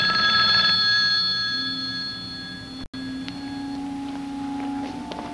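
A telephone rings in an indoor scene from a 1982 television soap opera, a steady electronic trill that carries on for several seconds behind a faint background hum, with no talking.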